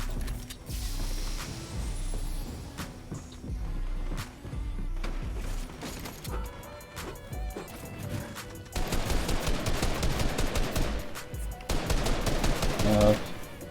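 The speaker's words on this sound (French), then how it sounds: "On va commencer avec un charge, le pompe que je déteste le plus." Charge shotgun shots in the Fortnite video game, heard among other weapon fire, with several bursts of rapid gunfire and impacts, loud and close, over game sounds.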